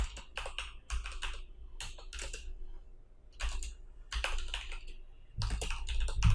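Fast bursts of keystrokes on a computer keyboard while code is typed, clustered clicks separated by short pauses, close and clear with no voice.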